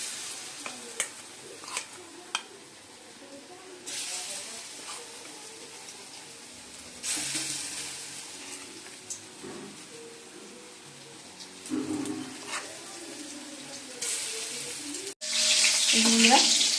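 Chicken pakora frying in a pan, a steady hiss of oil with louder sizzling bursts as pieces go in or get stirred, close by, with occasional clinks of utensils and no talking.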